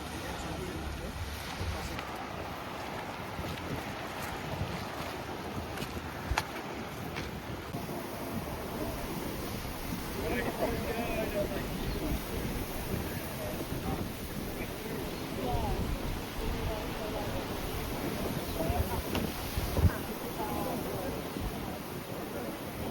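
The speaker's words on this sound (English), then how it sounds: "we set off on the speedboat to Padar Island" Speedboat ride to Padar Island in Komodo, with steady wind buffeting the microphone over a low engine and water rush throughout, heard alone and fairly constant with occasional thumps.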